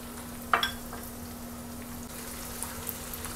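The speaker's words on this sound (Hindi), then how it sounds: "हम इसमें जिंजर गार्लिक पेस्ट ऐड करेंगे और इसको 2 मिनट्स के लिए फ्राई कर लेंगे" Ginger garlic paste frying with onions for mutton pulao gives a quiet, steady sizzle with a brief clink of stirring near the start and a constant low hum beneath.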